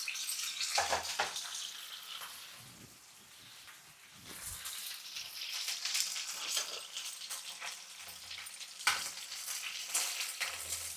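Broad beans fry in a pan while being prepared for pickle, giving a steady, moderate sizzle across the whole stretch with a few soft stirring scrapes and brief low thumps now and then; no one speaks.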